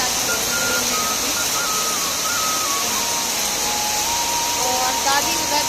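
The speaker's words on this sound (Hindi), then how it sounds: "आप आवाज़ सुन सकते हैं बारिश की। बहुत ज़्यादा बहुत तेज बारिश हो रही" Dense, steady roar of heavy rain at the Kotgari temple, constant and loud throughout, with a voice faintly audible beneath it.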